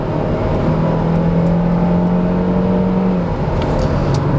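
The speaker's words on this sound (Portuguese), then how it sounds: "Agora é a vez do Chevrolet Equinox. Primeiro vamos arrancar aqui no modo normal." A Chevrolet Equinox accelerates from a standstill in normal mode on a 0 to 100 run, heard as a loud, steady engine drone with a held tone that shifts in pitch partway through.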